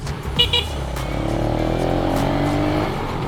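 A Benelli Motobi 200 Evo motorcycle accelerates on a test ride, its engine revving up with a rising, steady drone through the gears, loud and close.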